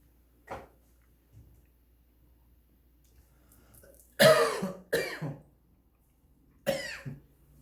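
Several sharp coughs, close and clear, scattered over a few seconds with quiet pauses between them, including a short burst of two in quick succession.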